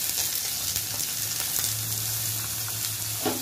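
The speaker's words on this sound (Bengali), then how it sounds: "এটা ভালো করে কষিয়ে নেবো" Ginger paste, cumin, coriander and whole garam masala frying in a pan for a mung dal with fish head, a close, steady sizzle with faint stirring scrapes and no talking.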